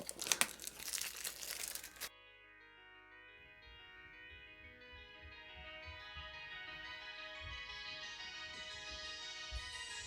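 Protective film is peeled off a ball rollercoaster clock, making a brief burst of close crinkling and tearing. It then gives way to a quiet sustained reverberant tone.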